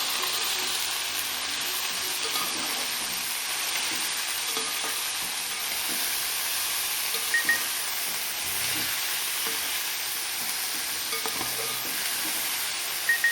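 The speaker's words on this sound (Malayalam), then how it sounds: "അപ്പോൾ നമുക്ക് ഇളക്കി കൊടുക്കാം" An ivy gourd and long bean stir-fry is stirred in a pan over low heat, giving a steady continuous sizzle with a few faint scrapes and clicks of the spoon and no talking.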